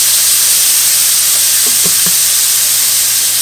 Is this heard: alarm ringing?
no